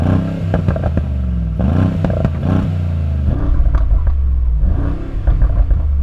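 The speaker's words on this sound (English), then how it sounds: "it's this, it's the uprated exhaust" A Brabus G-Wagon 900 Rocket R with an uprated exhaust is revved repeatedly, giving loud, close bursts of deep engine roar with crackling and popping between the blips.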